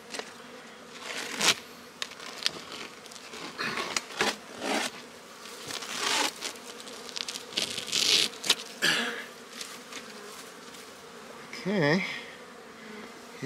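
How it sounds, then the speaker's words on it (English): Dense, steady buzzing of many bees close by in an open hive, a continuous insect drone with occasional louder passes and faint handling noises. "Boy, lots of bees in there, looking good."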